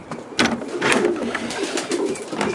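Pigeons coo repeatedly nearby, soft throaty calls overlapping in an enclosed space with faint rustling.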